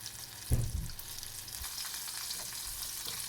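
Pieces of KFC-style chicken deep-frying in hot oil give off a steady, fairly quiet bubbling sizzle, with a brief louder clatter near the start as the pieces are moved around.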